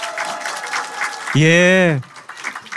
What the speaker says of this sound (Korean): 큰 박수와 함성 부탁드리겠습니다.